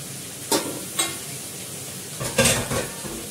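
Ginger paste stirred into meat frying in a pan: a low background sizzle with several distinct scraping, clinking strokes of a spoon against the pan, a couple early and a cluster near the end.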